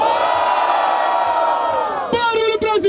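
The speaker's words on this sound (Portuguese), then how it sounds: "Barulho pra cima do Aldi" Crowd at a Brazilian rap battle in Barueri, São Paulo, shouting and cheering loudly and continuously, with a few sharp whoops and yells near the end.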